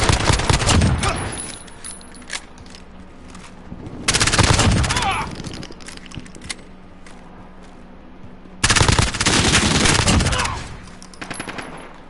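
Rapid automatic gunfire in a Call of Duty match, three loud bursts separated by quieter gaps, with a player talking softly in between.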